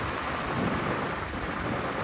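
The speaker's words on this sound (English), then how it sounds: "we're getting a little bit of rain" Rain falling during a drive through Bali, a dense, steady hiss and patter that fills the whole moment at close range with a low rumble beneath, no talking.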